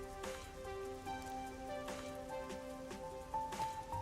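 Steady rain falls across a neon-lit city street in the Kamasaki District of the video game Master Detective Archives: Rain Code, a soft continuous patter with a few heavier drops, faint and ambient with no talk.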